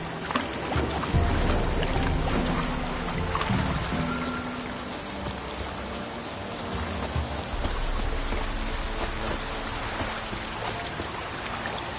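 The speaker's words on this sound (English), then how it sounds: "Oh, it's drizzling." Drizzling rain in The Witcher 3 on PS5, a dense continuous patter of drops on water and ground near a pond, loud and steady throughout with no talking.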